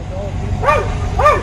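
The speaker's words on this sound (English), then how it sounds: "I can't hear you because you're agitating the dog." A police canine in a patrol car gives two sharp, whining barks close by, about half a second apart, while people talk over them.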